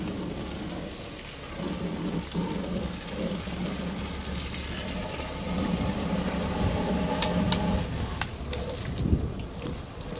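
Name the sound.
hose rinsing out a lizard enclosure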